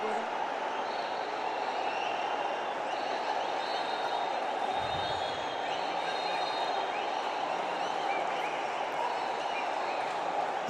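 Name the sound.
football stadium crowd cheering wildly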